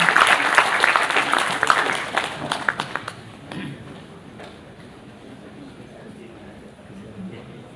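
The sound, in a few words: applause for Professor Mitsuo Nakamura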